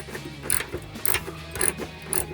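A socket ratchet clicks in four quick bursts, removing a bracket bolt above the muffler of a 2005-2010 Mustang V6 during an axle-back exhaust swap, close and crisp with no voices.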